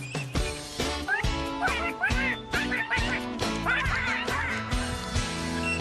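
Ducks quack in short, repeated bursts over a bouncy musical backing, the calls coming rapidly and fairly loud.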